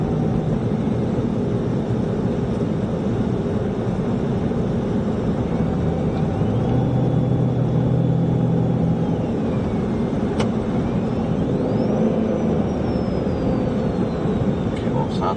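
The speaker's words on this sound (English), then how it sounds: "it still whined, so it would be more than likely alternator or something like that" A car droning steadily while it accelerates, with a thin high whine that rises and falls over the engine and road noise, a fault thought to come from the alternator.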